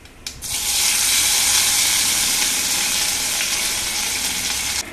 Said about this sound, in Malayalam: കടുക് പൊട്ടിക്കഴിയുമ്പോൾ വേപ്പില ഇടണം.